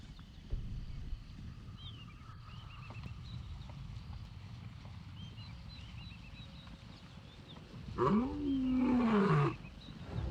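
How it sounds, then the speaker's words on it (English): A wild lion lets out one deep, powerful roar near the end, rising and falling over about a second and a half, after a stretch of quiet outdoor ambience with faint bird chirps. "A roar can travel up to 5 miles under favorable conditions."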